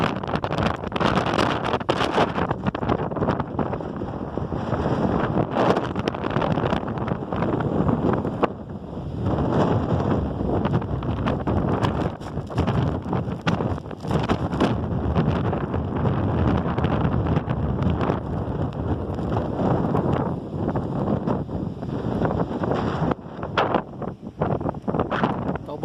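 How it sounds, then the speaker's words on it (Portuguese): Strong, gusty wind buffets the microphone at a beach at Praia do Rosa in Imbituba during a storm, a loud continuous roar with surging gusts throughout and no talk. "Tá o barulho do vento."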